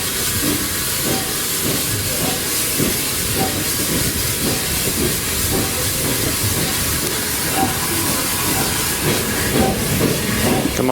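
A steam train on the Kent and East Sussex Railway passing over a crossing on damp rails, with loud steady hissing steam and rhythmic chuffing and wheel clatter, close by throughout.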